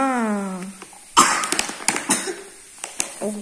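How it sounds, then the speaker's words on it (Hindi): A voice gives way to a short fit of several harsh coughs close to the microphone, followed by a brief vocal sound. "हाँ खांसी हो गई आपकी"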